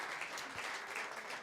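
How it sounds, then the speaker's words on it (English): An audience applauds the production crew at a live concert in the Old Jail, steady dense clapping that fills the short stretch at an even level with no voices over it. "how about a round of applause for the folks from Grassroots"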